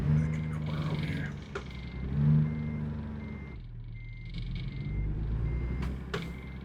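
Steady electronic reversing beeps from a truck backing into a corner parking spot in American Truck Simulator, repeating over a low engine rumble with a faint hiss near the end.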